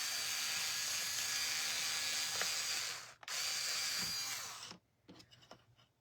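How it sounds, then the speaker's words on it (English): A power drill whirs steadily for several seconds drilling into wood for a wreath craft, briefly stops, then runs again before cutting off, leaving faint clicks and handling noises. "Now I am going to use my drill"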